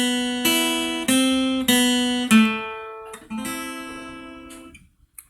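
Clean lead guitar plays the closing phrase of Bella Ciao as a string of clear single notes, some ringing and some bending downward, fading out at the end, with no talking.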